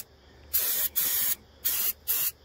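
Brake cleaner sprayed onto differential surfaces during a fluid change on a 1985-1997 Ford F-Series Sterling 10.25 axle, four loud, close, hissing bursts of under half a second each, separated by brief gaps.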